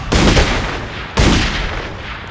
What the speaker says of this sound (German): Schön, ein Schuss, ein Treffer, ein Kill.